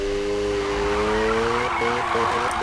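Tires of an RX7 drift car skid and squeal through a sustained slide in Need for Speed 2015, the engine droning with shifting tonal whine, loud and continuous throughout.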